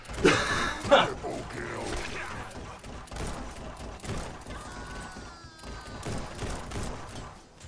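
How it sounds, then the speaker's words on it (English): Gunshots ring out in the VR western shooter Guns 'n' Stories: Bulletproof, a couple of sharp loud cracks at the start followed by scattered fainter shots, thuds and whacks over a quiet game backdrop. "I'm just trying to use my left hand to whack away the bullets whilst I shoot with my right hand"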